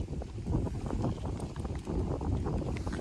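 Steady low wind rumbling and buffeting against the microphone outdoors at a fishpond, continuous and fairly loud, with no voices.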